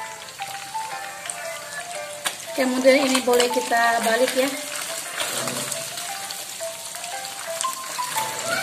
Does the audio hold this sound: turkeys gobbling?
no